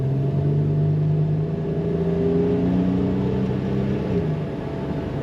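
A 1985 Buick Grand National with its turbocharged engine and automatic transmission pulls away, a steady loud rumbling drone with engine tones rising and shifting as it accelerates from inside the car.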